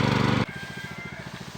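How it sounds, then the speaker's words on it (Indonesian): A small engine-driven water pump on a straw mushroom farm runs with a fast, even chugging, loud and close, just after a short burst of louder noise at the start. "Oke, kita nyalakan dulu ininya pompa airnya."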